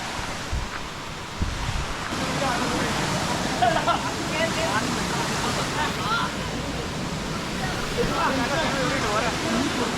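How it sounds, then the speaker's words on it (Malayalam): The small Blathur waterfall rushes steadily in the rain, a constant broad roar mixed with buffeting wind on the microphone. "വലിയ വെള്ളച്ചാട്ടമൊന്നുമില്ല, ചെറിയ വെള്ളച്ചാട്ടം."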